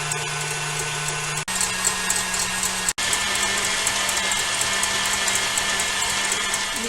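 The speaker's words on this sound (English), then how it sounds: "The first thing I do to start my waffles is that I beat the egg whites." A hand mixer whips egg whites for waffles in a bowl, a loud continuous high whirring with steady motor hum, briefly cut twice by short pauses before running on without talk.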